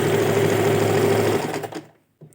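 A sewing machine stitches elastic onto fabric in a fast, loud, continuous mechanical whir that stops abruptly near the end, followed by a faint brief rustle.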